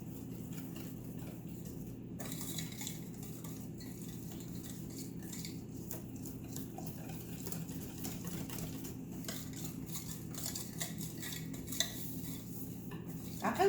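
Cake batter being mixed in a pot on a camp stove, a spoon clinking and scraping against the metal in a steady, soft rhythm, close by with no talk.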